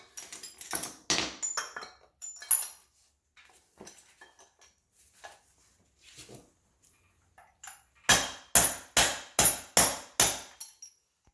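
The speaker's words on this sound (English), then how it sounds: "think it's collapsed enough for me to hammer it up with this." Metal clanks and pings from hammer strikes driving out a car's front lower control arm bushing, a few scattered hits at first, then a rapid run of about seven sharp, loud blows close by.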